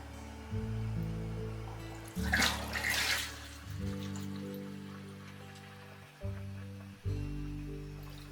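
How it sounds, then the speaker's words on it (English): Sugar solution being poured in short bursts into grape juice for homemade wine, splashing and trickling into a container over a low background hum. "I'm going to pour in the sugar solution."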